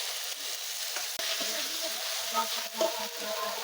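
Taro stolons fry in oily spice paste in a pan, producing a soft, even sizzle with occasional stirring taps and a brief knock, near and fairly quiet, without speech.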